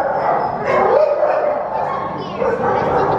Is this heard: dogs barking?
yes